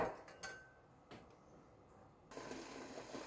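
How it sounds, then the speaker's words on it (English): A cooking pot set back down on a kitchen stove top while making milk tart: a few faint, quiet metallic clinks and knocks near the start, then soft room noise. "So I'm going to put the pot back on the stove top"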